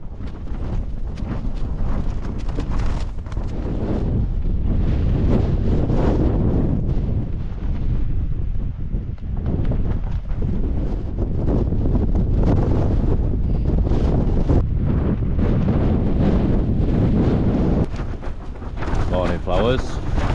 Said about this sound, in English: I want a bad night's sleep considering the wind rattling this tent about